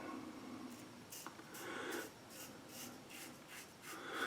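A razor blade scrapes across skin during a first shave without a brush, producing faint, close, repeated rasping strokes in a steady rhythm in a quiet room with no voices.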